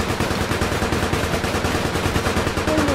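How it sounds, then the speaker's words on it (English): Rapid automatic gunfire from a fast-firing gun in APB Reloaded, a dense, loud, unbroken stream of shots rattling close by. "Oh, your gun shoots so fast."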